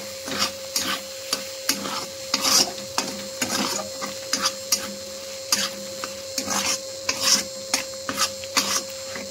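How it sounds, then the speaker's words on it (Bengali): Spice paste for a chicken curry being stirred and sautéed in hot oil, with rhythmic scraping strokes of a spoon against the pan over a faint sizzle and a steady background hum, close and with no talk. "তো মশলাটা দিয়ে এখন আমি ভালো করে কষাবো"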